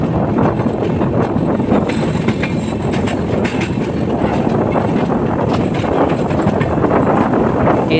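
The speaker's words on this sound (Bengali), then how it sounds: "ট্রেনটা বেঁকে বেঁকে চলে যাচ্ছে।" A train rolls along a curving track, a loud continuous rumble with rhythmic clickety-clack of wheels and some wind buffeting on the microphone, heard close and without speech throughout.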